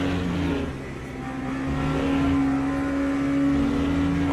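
LMP3 race cars in the sim racing game Le Mans Ultimate: a steady, loud engine drone with a strong pitched tone that swells slightly as the cars go by, with no voices.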